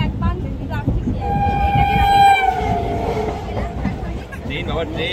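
A local passenger train rumbles along the tracks while its horn sounds one long, loud, steady blast, heard close over the continuous roar of the moving carriages.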